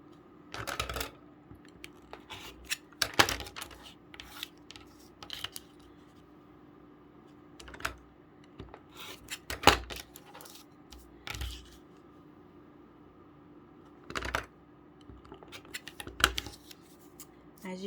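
A paper-pieced quilt block is trimmed with scissors, producing sparse, quiet snips and short clicks separated by long pauses, close by in a calm room.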